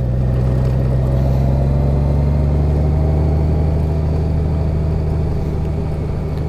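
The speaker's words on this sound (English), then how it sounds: "Now we're getting into some rocks and gravel." A 2018 Honda Goldwing motorcycle rolling over rocks and gravel on a rough path, a steady loud low engine rumble with gritty crunching underneath and no talk.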